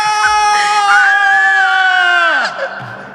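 A convention crowd at PAX East 2024 screams together in one sustained, loud, tonal cry that holds for about two seconds and then drops off sharply.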